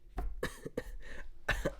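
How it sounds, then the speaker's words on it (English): Several sharp, harsh coughs close by, coming in quick bursts with short pauses between them, then a final pair of coughs. "I keep coughing"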